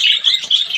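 Pet parakeet chirping close by in a steady run of high, bright tweets and warbles with short gaps between, loud and alone with no voices.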